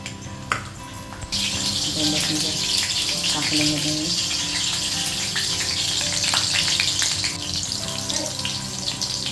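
Green chillies drop into hot oil and set off a loud, steady close sizzle that carries on under a cooking voice, with faint utensil clinks around it.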